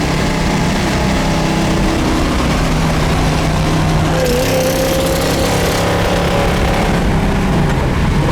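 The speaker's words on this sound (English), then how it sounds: "Cruising down the road, doing about 55 miles an hour right now." Steady engine drone and road noise from a 1960 Chevrolet Impala Bubble Top cruising at about 55 mph, constant and fairly loud throughout.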